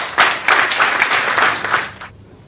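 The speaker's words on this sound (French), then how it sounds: "que je vous demande d'applaudir intensément" Audience applause at a prize ceremony for children's letter-writing contest winners, a loud burst of rhythmic clapping lasting about two seconds, then stopping abruptly.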